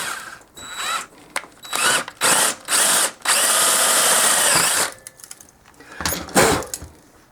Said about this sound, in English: There's our left hand drill, so maybe I can just try and wind it out.